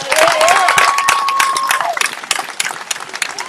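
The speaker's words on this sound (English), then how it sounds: "Give them a big hand." An outdoor crowd at a youth coalition march in Tuscaloosa, Alabama breaks into loud sustained applause and cheering, with a voice calling over the start before the clapping thins out toward the end.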